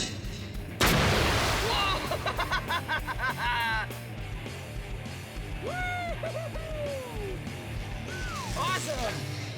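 A compressed-air rocket fires at 100 PSI with a sudden loud blast, then a sustained roar and whoosh for a few seconds, while voices cheer and shout over it.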